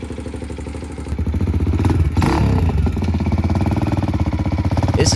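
KTM 450XCW-R motorcycle converted to a street-legal three-wheeler with a wide-ratio six-speed gearbox, its single-cylinder engine pulsing steadily close by and rising into a louder run after about one second, with a brief clatter near the middle.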